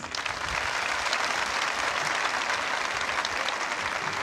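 An audience at an event in İzmir breaks into steady, full applause that swells in the first half second and holds at an even, dense level throughout, with no talk over it.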